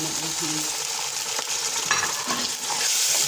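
Beef pieces frying with browned onions in a karahi, giving a close, even sizzle broken by spatula stirs and scrapes.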